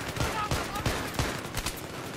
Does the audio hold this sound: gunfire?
yes